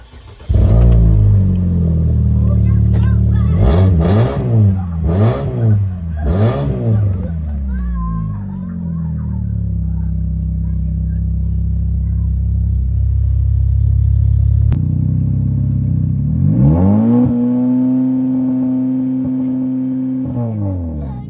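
A car engine revs up hard several times in quick bursts, then settles into a steady loud idle before another rising rev near the end.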